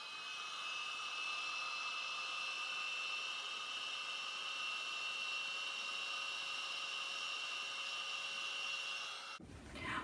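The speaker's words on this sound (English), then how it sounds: "I then grab the heat gun and I melt the white embossing powder" A heat gun melting white embossing powder on cardstock gives a steady, close, whining fan hiss with a high tonal whine that runs unbroken for about nine seconds, then cuts off abruptly.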